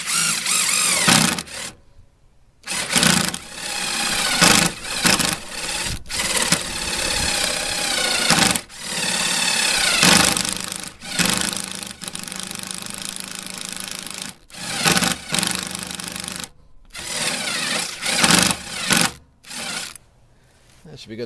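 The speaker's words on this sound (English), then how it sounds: "going to use my nut driver here with a 1-inch wood bore in it and just go down deep enough to recess that head" A nut driver fitted with a 1-inch wood bore drills into wood to recess a hex bolt head during a utility trailer build, a loud whirring motor in repeated long bursts with short pauses between them.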